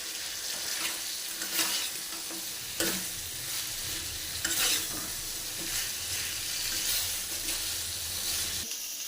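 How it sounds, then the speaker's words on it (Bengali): Masala is stirred and fried with fried flour pieces and potatoes in a pan, giving a constant sizzle broken by periodic scraping strokes of the spoon, close and steady throughout. "এবার একসঙ্গে মিশিয়ে কষিয়ে নিই ভালো করে।"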